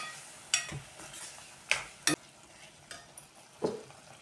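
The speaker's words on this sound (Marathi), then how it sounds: "आता टाकूया आपला हा शिजलेला डाळ बटाटा. मिक्स करून घेऊ." Cooked dal and potato stirred into a curry in a cooking pan, with a soft background sizzle and several distinct clinks of a spoon against the pan at irregular intervals, close and fairly quiet.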